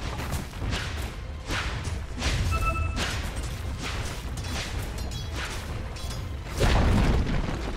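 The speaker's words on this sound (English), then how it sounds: "Dire's middle tower has fallen." In a Dota 2 match, the Dire middle tower takes hits and collapses, heard as a series of deep booms and thuds amid ongoing game effects, ending in a louder crashing burst near the end.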